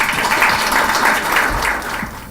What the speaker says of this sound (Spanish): a quien recibimos con un fuerte voto de aplausos